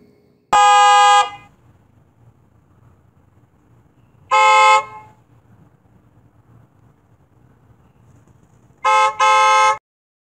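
A car horn honks three times in a city street, loud and close, each blast about half a second long, with pauses between them and a low traffic rumble underneath.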